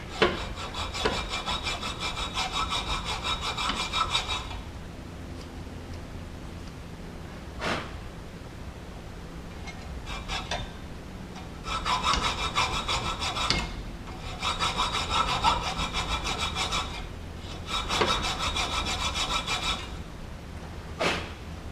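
Hand saw blade cutting through the rubber bushing of an aluminum front upper control arm from a Mazda MX-5 or RX8, rhythmic rasping strokes in several bursts with short pauses, close and moderately loud.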